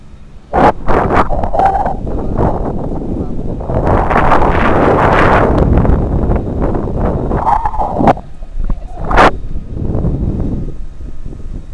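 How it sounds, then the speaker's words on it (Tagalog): Strong wind roars and buffets the microphone in long, loud gusts during a parasailing ride over the sea at Boracay, with voices breaking through in between. "tong video na to, mahangin siya"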